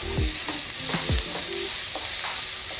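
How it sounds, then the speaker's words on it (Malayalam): Onions and green chillies stirred and sautéing in a pan, with scraping spatula strokes at a steady rhythm over a soft continuous sizzle, close and clear with no talking. "ഇതൊന്ന് സവാളയൊക്കെ ഒന്ന് വഴന്നിട്ടുണ്ട് നല്ലോണം."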